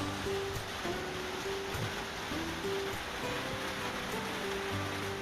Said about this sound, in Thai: ก็เลยมาเก็บ บรรยากาศฝนตกยามเช้าวันนี้นะคะ